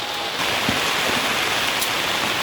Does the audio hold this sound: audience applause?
no